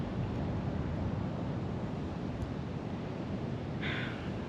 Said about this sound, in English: And I had to come here to this ocean.